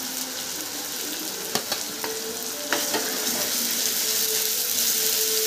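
Ginger, garlic and dried chilli hit hot oil with browned onion, producing a steady close sizzle with a few sharp spatula taps, the frying growing slightly louder partway through.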